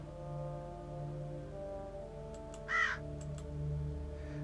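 A lone crow gives a single short, harsh caw in the video game The Huntsman: Winter's Curse, rising briefly over a steady low droning background.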